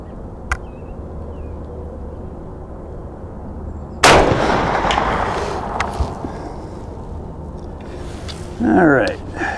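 A single loud gunshot from a firearm loaded with 444 Supercharged FTX ammunition cracks out midway and rings into a fading tail over steady outdoor background hiss.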